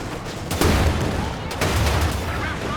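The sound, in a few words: air strafe gunfire in video game Company of Heroes 2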